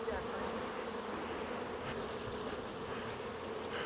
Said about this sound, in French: Moi, j'entends plus les abeilles que toi, France.